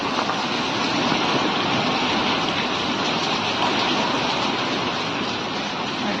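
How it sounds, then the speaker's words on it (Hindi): Heavy rain pours steadily outside, a dense, loud, unbroken wash of water noise with no pauses and no voices. "बाहर कितनी जोर से कितनी मस्त बारिश हो रखी है"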